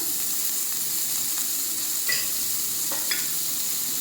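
Finely chopped large onions hiss and sizzle in hot oil with mustard seeds for kadai paneer, a steady broadband fry with a few soft stirring scrapes and small pops.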